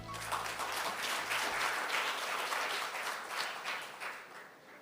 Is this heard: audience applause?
yes